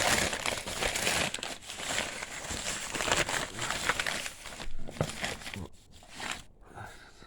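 Packaging of a white Gigabyte RTX 2060 Gaming OC Pro graphics card being unboxed, close crinkling and rustling of cardboard and plastic in irregular bursts, fading toward the end.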